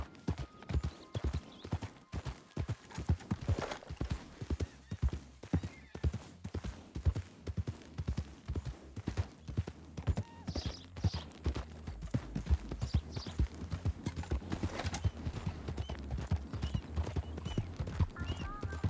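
A horse's hooves clip-clop steadily in Red Dead Redemption 2, a continuous rhythmic walk of close, distinct strikes with occasional snorts, running throughout at moderate loudness.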